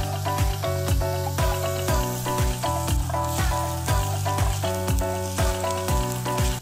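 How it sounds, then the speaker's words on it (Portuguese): Onion and garlic sauté in a pan, a busy crackling sizzle with repeated sharp scraping strokes of a utensil stirring at a steady rhythm, close and loud. "Quando a cebola e o alho estiverem bem refogados"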